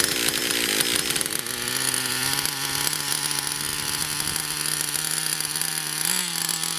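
A Traxxas T-Maxx RC truck's nitro engine, running a little rich, buzzes steadily and loudly close by, a high whining drone that holds for the whole stretch with a slight pitch rise near the end.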